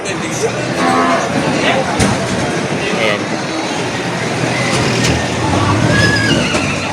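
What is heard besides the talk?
cattle mooing and horses neighing at livestock auction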